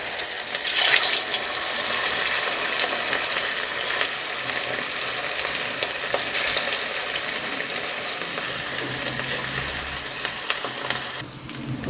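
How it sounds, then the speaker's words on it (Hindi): Chicken koftas dropped one by one into hot oil in a wok, a continuous bright sizzle and crackle, loud and close, with occasional clinks of a utensil. "पहले हम कोफ्ते फ्राई करते हैं।"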